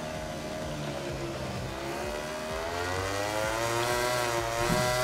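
A motorcycle engine in MotoGP 17 at the Malaysia GP holds a steady, high, whining drone that climbs slowly in pitch, running continuously with no voices over it.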